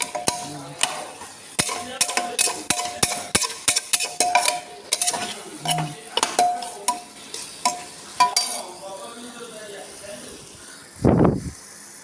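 Mutton and potatoes fry in hot oil while a utensil stirs them, with rapid metallic scrapes and clinks against the pan over a soft sizzle and a brief hiss near the end.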